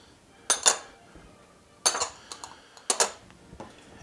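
Flour, baking powder and salt mixed in a bowl for Slovenian kifle dough, three short bursts of clinking utensil scraping against the bowl with quiet gaps between, close and fairly soft.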